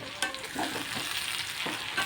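Dried fish (shutki) fries in a pan for a spicy mash, giving a steady close sizzle with a few scraping stirs and no talk.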